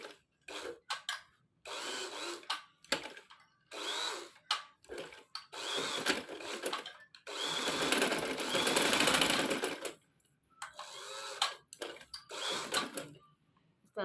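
A sewing machine runs a long stitch through a wool shalwar, its motor whirring in repeated bursts of varying length broken by short pauses, with one longer continuous run in the middle; close and fairly loud, no talking.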